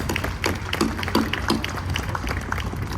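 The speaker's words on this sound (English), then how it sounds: "another round of applause for both the food vendors and our staff" Applause from an opening-day audience at the Canadian National Exhibition in Toronto, honoring food vendors and staff: a steady wash of many hands clapping at moderate distance, with a faint voice audible underneath.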